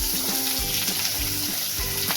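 Onion frying in a hot pan with cloves and other whole spices, being roasted for Maharashtrian anda bharit. A close, continuous crackling sizzle is punctuated by rhythmic stirring scrapes.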